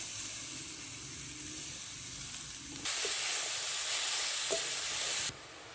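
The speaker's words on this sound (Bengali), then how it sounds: "মশলাগুলো একটু ভাজা ভাজা করে নিয়েছি এবারে আমি দেব গেট করে রাখা গাজর" Grated carrot tipped into hot oil with salt, asafoetida and spices in a pan for carrot paratha; a soft sizzle jumps to a loud, bright frying hiss with stirring, then drops back.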